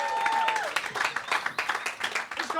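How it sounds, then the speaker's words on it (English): Comedy club audience in Liverpool claps and cheers, dense crackling applause with a few whoops, moderately loud and steady across the short stretch, a faint tone sliding down early on. "Keep clapping, whooping, cheering."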